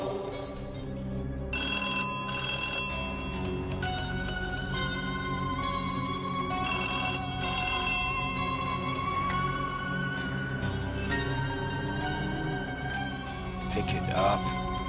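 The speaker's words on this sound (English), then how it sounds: "The phone's ringing." A telephone bell rings in repeated electronic bursts at headquarters, loud and close, with steady tonal accompaniment running underneath the whole time.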